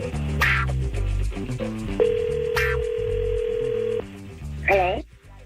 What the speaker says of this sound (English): let's call up your mom, Cindy, and see what she does here.